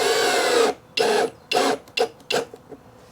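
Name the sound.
putting screws in for a solar wax melter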